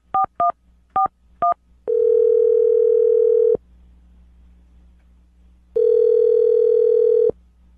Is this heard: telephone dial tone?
yes